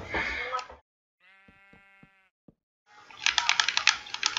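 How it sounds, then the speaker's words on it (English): A sheep bleats in the Minecraft video game, one clear wavering bleat alone between quick bursts of computer keyboard typing at the start and end. "There's a sheep in my house."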